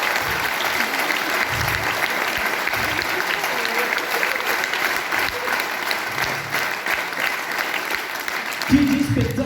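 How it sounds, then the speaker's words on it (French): A large concert audience in a hall in Saint-Xandre claps steadily and continuously, a dense wash of applause from many hands. "Je vous demande d'applaudir les personnes qui étaient à la technique ce soir."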